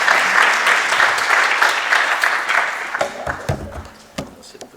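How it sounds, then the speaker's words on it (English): A live audience at a London Go programming meetup gives a round of applause, loud and dense at first, then thinning into scattered individual claps as it winds down. "Round of applause in the meantime."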